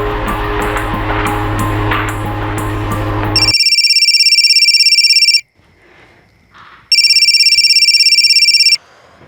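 An unanswered telephone rings in electronic bursts, two long loud rings separated by a short pause with faint background noise, following a stretch of dramatic TV-drama music.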